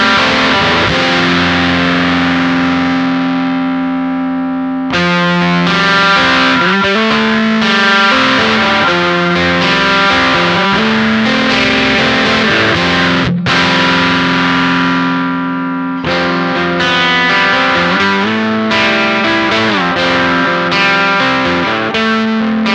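Guitar run through an Intensive Care Audio Life Support pedal with LED clipping as its preamp is turned down, giving sustained distorted chords that ring loudly and continuously with brief breaks between strums.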